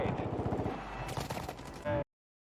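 Rapid automatic gunfire from a Warzone match, a dense rattling burst of shots that runs steadily for about two seconds before cutting off to silence.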